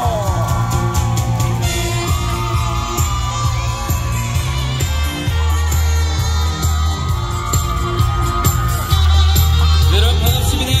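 A festival crowd cheers and applauds steadily at an autumn flower festival concert in Hwasun, loud and continuous over band music.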